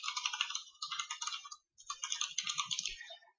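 Rapid typing on a computer keyboard while entering an email address, a quiet run of crisp clicking keystrokes with one brief pause midway and no voices.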